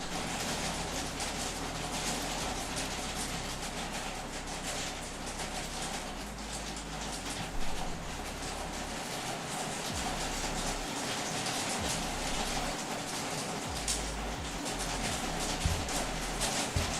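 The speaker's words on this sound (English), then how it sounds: "we got some super heavy rain" Heavy rain pours steadily across a sci-fi industrial area built in Unreal Engine 5, a dense, even hiss with a low rumble underneath and no gaps, continuous for the whole stretch.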